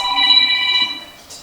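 A telephone ringing with a patient's call, heard as a short, loud electronic ring with steady bright tones that fade off after about a second.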